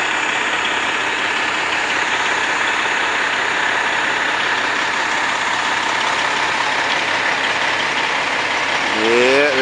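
A Montreal fire truck engine idles close by in a steady, unbroken broadband rumble, with a short rising tonal sweep just before the end.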